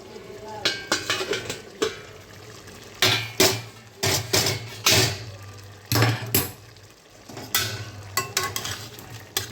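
Metal clanks and scrapes come from a cooking pot of simmering potatoes as its lid is lifted and handled, several sharp knocks and rattles over a low sizzling bubble, a few brief pauses between.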